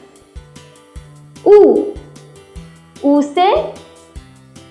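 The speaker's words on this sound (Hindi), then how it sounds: "ऊ से आता है उल्लू" Three loud, breathy owl hoots ring out, one alone and then a pair, over a steady plucked rhythmic beat in a children's learning song.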